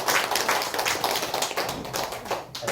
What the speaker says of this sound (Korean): 여기 다시 한번 우리 두 친구 위해서 박수 해주세요